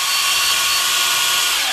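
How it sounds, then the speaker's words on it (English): Power drill boring a screw hole into the body of a Stratocaster guitar, a continuous loud, high-pitched whine with a steady grinding bite into the wood, heard up close and alone. "So I'll drill that one next."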